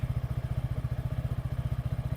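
Zontes Zonsen Battlo 5 RS motorcycle engine idling with a steady, rapid bassy exhaust pulse, loud and close, running alone without talk.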